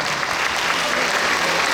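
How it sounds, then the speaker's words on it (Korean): A crowd at an outdoor choral festival opening ceremony in Suwon gives loud, dense applause that continues steadily through the moment. "큰 박수 부탁드립니다"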